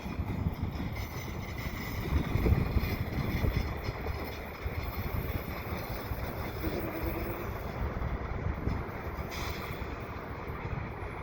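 CN GP9RM diesel locomotives rumble westbound around a curve toward a bridge, a steady low roar with wheel and rail noise holding throughout at moderate distance.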